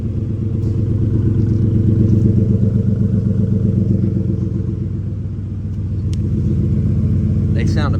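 A 2004 Ford F150 with a 5.4L engine idles steadily close by, its low, rumbling note carrying a rhythmic ticking clatter consistent with an engine whose timing is off.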